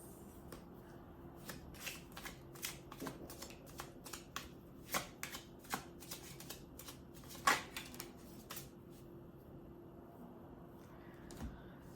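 A deck of flower oracle cards being shuffled by hand, a run of crisp riffling clicks and flutters repeated in uneven bursts, close and fairly quiet against a low steady background hum.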